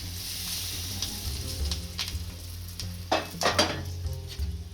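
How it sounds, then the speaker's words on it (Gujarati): A pinch of asafoetida sizzles in hot oil for a peanut chutney, a bright continuous crackle with stirring scrapes and a few louder bursts of spattering near the end, with no voices. "આપણું તેલ સારી રીતના ગરમ થઈ ગયું છે. આમાં થોડીક હિંગ નાખીશું."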